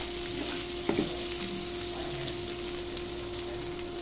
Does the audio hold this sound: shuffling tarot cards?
no